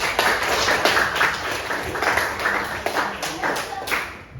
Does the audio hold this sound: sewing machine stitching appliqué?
no